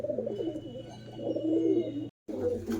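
Pigeons in a small home loft coo steadily up close, a soft continuous rolling murmur with a brief dropout near the end.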